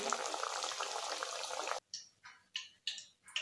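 Coriander vadi deep-frying in hot oil, a loud steady hiss of bubbling oil for nearly two seconds that cuts off, followed by several short separate bursts of sizzling.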